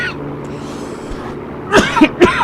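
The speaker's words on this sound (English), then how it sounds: "I apologize for coughing." A quiet stretch of low hum ends in a short burst of two or three sharp coughs, loud and close.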